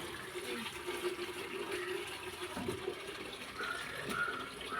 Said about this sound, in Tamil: தண்ணி பிடிச்சிக்கிறாங்க